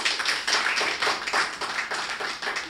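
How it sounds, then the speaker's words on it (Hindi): Audience at a Hindi poetry recital (kavi sammelan) clapping steadily for about three seconds, dense and fairly close, with no talking over it. "मेरे स्वागत में दोबारा जोरदार तालियां बजाएं"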